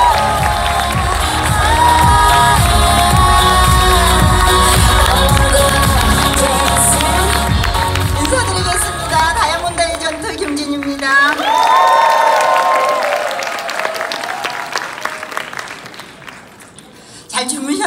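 At a two-day network marketing seminar, a crowd cheers and applauds loudly to welcome a diamond-rank leader, with whoops and shouts over music that fades toward the end.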